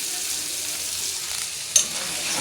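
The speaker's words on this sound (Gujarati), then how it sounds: "સરસ મજાનું સેવ ટમેટાનું શાક ચડે છે મસ્ત" Sev tomato curry sizzling in a pan, a steady close hiss of frying that holds evenly throughout, with one faint clink near the end.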